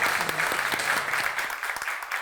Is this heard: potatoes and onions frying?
no